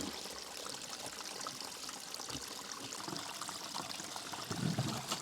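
Water poured from a bottle into a jerry can filter makes a faint, continuous trickling splash with a slightly louder gurgle near the end.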